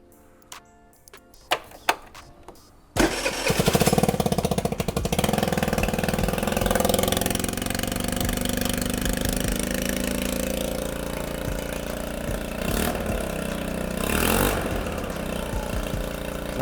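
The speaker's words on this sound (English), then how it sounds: "I want to hear what the new exhaust sounds like." A few clicks and taps, then a 2019 Coleman 49cc scooter engine with a new exhaust fires up and keeps running with a steady, raspy exhaust drone, with a couple of brief revs.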